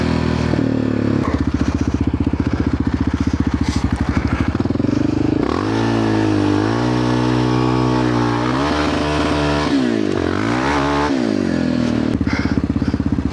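A Yamaha Raptor 700R quad engine street drifting, loud and close, with steady high-revving pulses that rise and dip in pitch as the throttle changes, plus scraping and clatter underneath.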